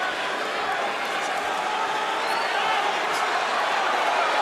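A boxing arena crowd roars steadily through the final round of a Mayweather fight, a broad, sustained wash of distant cheering with a commentator's voice layered over it.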